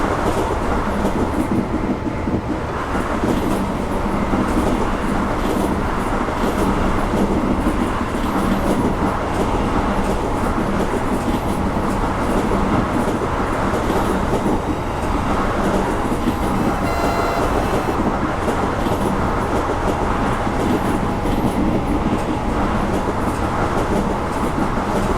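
A BB 22200 electric locomotive in Train Simulator Classic runs between Melun and Giens near Fontainebleau. It gives a loud, steady rumble and hum of traction with faint rail clatter, continuous throughout and without speech.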